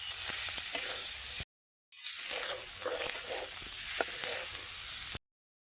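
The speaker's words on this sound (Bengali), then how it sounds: "এইবার হালকা আঁচে এটাকে বেশ কিছু সময় ধরে নেড়ে নেব" Fish filling stirred in a wok over low heat gives a steady soft sizzle with faint scraping strokes of the spatula, close by, broken by one brief silent gap.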